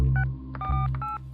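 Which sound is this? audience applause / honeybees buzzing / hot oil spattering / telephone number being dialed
telephone number being dialed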